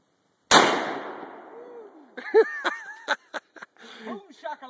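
A single sharp, loud 45-70 lever-action rifle shot cracks outdoors and decays, followed by people talking and chuckling.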